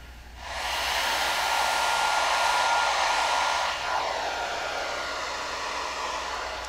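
A T3 Afar travel hair dryer blows with a steady, close airy whoosh during a round-brush blowout, running continuously for several seconds with a slight dip in tone partway through.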